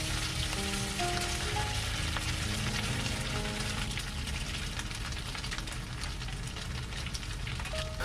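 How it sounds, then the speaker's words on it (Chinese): Steady, dense sizzling of marinated meat frying in a hot pan over medium-low heat, a continuous crackle with no voices. "这样中小火煎3分钟"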